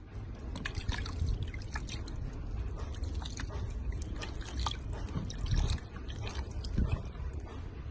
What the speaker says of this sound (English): this is how we wash our fish down here